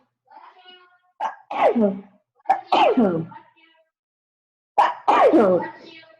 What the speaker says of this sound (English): That's a sneeze.